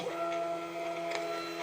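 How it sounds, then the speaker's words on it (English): A MUNBYN 403B label printer prints, a quiet steady mechanical whir with faint ticking, heard close up and alone for under two seconds. "I'm going to print it."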